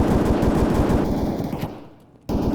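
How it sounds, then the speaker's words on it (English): Rapid automatic gunfire in the video game Escape From Tarkov bursts loud and close, briefly thinning out before another burst cuts back in. "I can hear gunshots."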